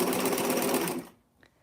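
A sewing machine winding a second bobbin, a loud close steady whirring hum that runs for about a second then stops abruptly, followed by near silence and a faint small click.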